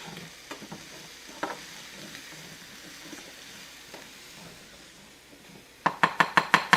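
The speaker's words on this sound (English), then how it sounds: "we're just going to throw them in the same pan and saute them for 2 or 3 minutes until they're just getting a little soft" Peppers sautéing in a frying pan give a soft, steady sizzle with scattered scraping stirs, ending in a run of sharp, loud knocks of a utensil against the pan.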